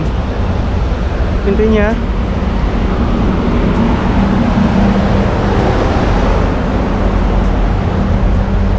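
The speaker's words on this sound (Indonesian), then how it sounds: "Di sini mesin-mesin ya, jadi berisik di sini." Ship engines aboard the Pelni passenger ferry KM Egon give a loud, constant broadband roar and hum that fills the whole clip, with a voice speaking briefly over it.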